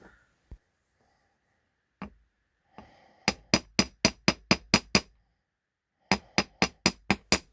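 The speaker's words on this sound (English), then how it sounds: "As you're hammering it, you're going to notice that you're going to lose the 90 degrees" Metal hammering of thin piano wire in a vise: a few scattered taps, then two fast runs of sharp, ringing strikes, about eight in a row each, close and clear.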